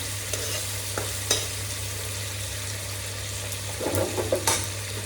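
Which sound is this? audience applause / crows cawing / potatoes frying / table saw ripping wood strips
potatoes frying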